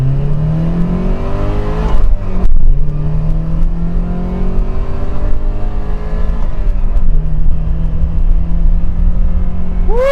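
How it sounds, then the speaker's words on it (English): A 1984 Porsche 944 with an old-school four-cylinder engine revs loudly on the move, pitch climbing through gears with brief dips at shifts, close and dominant. "old school Porsche with an old school 4-cylinder"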